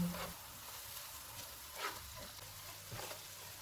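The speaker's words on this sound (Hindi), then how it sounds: "दही वाला मिक्सचर डालेंगे। इसको 2 मिनट तक भूनेंगे।" A yogurt mixture fries with chicken in a pan, giving a soft, low sizzle with a few faint stirring scrapes, quiet and close.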